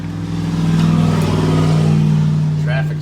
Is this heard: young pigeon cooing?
no